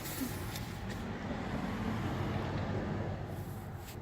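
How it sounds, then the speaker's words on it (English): A truck rumbles past at close range, a steady low roar of road traffic that holds loud and even throughout, with a faint voice briefly audible beneath it. "Sorry, truck's going by."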